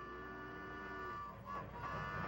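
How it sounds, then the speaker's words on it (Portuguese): A distant train horn sounds in long, steady tones over a low rumble, fading and shifting slightly toward the end. "Acho que estou ouvindo o trem."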